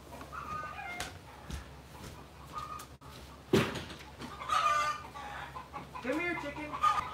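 A chicken that has wandered indoors into a house gives scattered clucks and short calls, fairly close and moderately loud, over a low background hum and some rustling.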